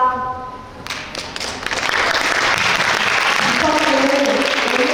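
At a school entrance ceremony, students applaud the new principal: after a moment of tones and a few taps, a broad wash of clapping swells and holds steadily, with faint voices mixed in.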